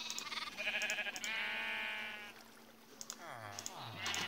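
Blocky sheep on a Minecraft wool farm give several short bleats in a row, some higher and some lower, with clicks and game sounds around them.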